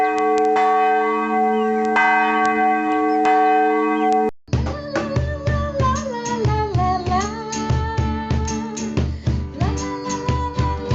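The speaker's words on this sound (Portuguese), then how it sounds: "Esse é o sino." A church bell rings with long, sustained metallic tones, first a single resonant peal, then after a brief break a denser, overlapping clangor of strikes that swells and hums, loud and close with no talk.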